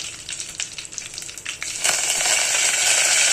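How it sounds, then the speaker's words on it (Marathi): Curry leaves hit hot oil already holding cumin and mustard seeds, crackling and spitting, then swell into a loud steady sizzle close by, with no voices. "कढीपत्त्याचा आवाज भरपूर होतो"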